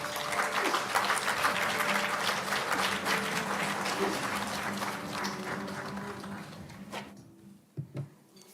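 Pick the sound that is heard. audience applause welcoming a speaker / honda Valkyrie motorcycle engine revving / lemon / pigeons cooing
audience applause welcoming a speaker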